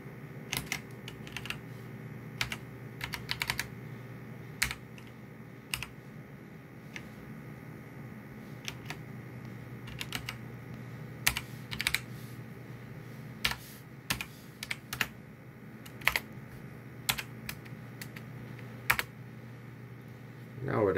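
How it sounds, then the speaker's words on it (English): Keys tapped on a computer keyboard while entering a login password on a Raspberry Pi 4, a steady run of close, crisp clicks in small bursts over a low background hum. "Now it asks for my password. Type that in."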